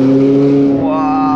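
A Ferrari accelerating hard on roads around Monaco: a loud, close engine drone whose pitch dips at a gear change and then climbs steadily as the revs rise again.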